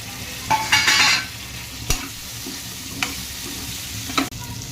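Drumsticks sizzle and fry in a pan while a utensil scrapes and knocks against it in a few sharp, irregular strokes.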